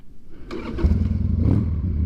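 A Harley-Davidson Sportster engine cranks and catches, then settles into a loud, close, lumpy idle with a quick rising rev.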